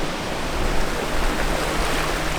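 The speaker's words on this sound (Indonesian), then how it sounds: "suara ombak, angin, itu aku rasakan gitu" Continuous wash of ocean surf with wind during extreme weather at Tanjung Bira, Bulukumba, a dense, steady roar with no distinct breaks and no talking.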